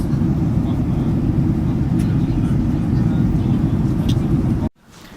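Inside an airplane cabin at Charleroi airport, a loud, steady low engine and air roar drones on without a break, then cuts off suddenly near the end.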